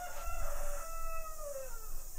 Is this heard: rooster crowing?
yes